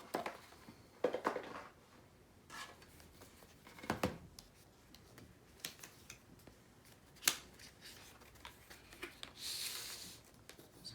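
An Apple Watch Series 7 Nike edition being unboxed, with scattered crisp rustles, snaps and packaging handling spread over several seconds, fairly quiet and close, with no talking.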